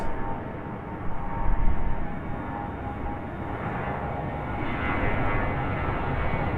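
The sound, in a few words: American Airlines jet airliner accelerating on takeoff roll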